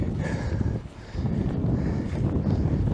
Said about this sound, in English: here is the strong wind, and it's kind of cold